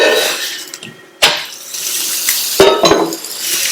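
A chapati is flipped on a hot pan after oil is spread on it, giving sharp clanks and scraping of a utensil against the pan between soft sizzling, with two or three distinct knocks close by.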